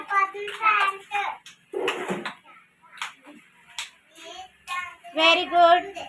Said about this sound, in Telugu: అరవద్దు, క్లాప్స్ కొట్టండి